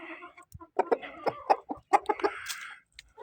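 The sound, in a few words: Karis breed rooster clucking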